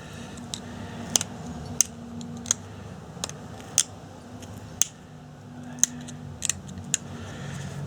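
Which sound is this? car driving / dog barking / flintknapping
flintknapping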